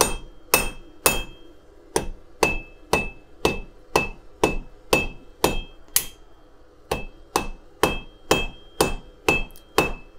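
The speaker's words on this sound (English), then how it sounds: "I simply come down here to an anvil and I just hit it a few times with this hammer." A hammer strikes copper on an anvil about twenty times in a steady rhythm, each blow a bright, ringing metallic clink, close and alone.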